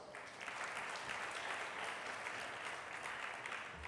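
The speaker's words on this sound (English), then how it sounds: "Please, a round of applause." Audience at a panel on climate adaptation for African children and youth applauds a Malawian government minister; dense, even clapping sounds faint and distant throughout, with no talk.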